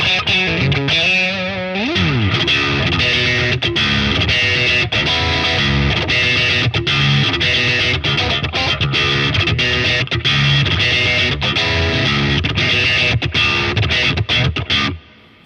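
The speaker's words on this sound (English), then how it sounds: "boosting the tight knob, reducing the gain again with the coil split middle position sound" Electric guitar through the Neural DSP Archetype Abasi plugin with the pickup coil-split in the middle position, tight knob boosted and gain reduced, plays loud, snappy, percussive distorted riffs continuously with no talking.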